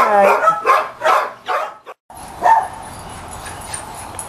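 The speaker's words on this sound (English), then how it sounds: "You like the little Yorkie?" A small Yorkie barks four times in a quick rhythmic series, loud and close, then after a short cut a single softer yip sounds over quiet room noise.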